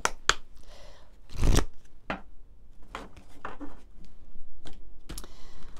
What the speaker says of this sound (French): On va prendre quelques cartes de l'oracle de l'incarnation.